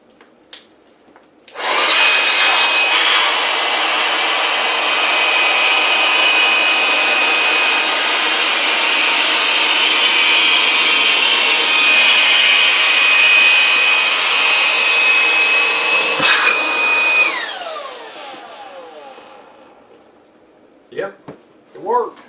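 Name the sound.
inflating Sevylor Rio inflatable boat with pump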